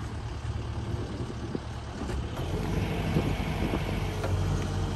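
A tractor engine runs steadily while lifting a dock section during dock and boathouse construction, a low rumbling drone that swells slightly louder midway, with wind noise and no clear talk.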